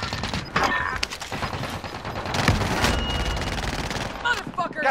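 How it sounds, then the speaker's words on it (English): Rapid automatic gunfire in a battle royale video game, a dense run of close shots and bursts that keeps going across the moment, with scattered game sounds and a brief voice mixed in. "I'm taking fire"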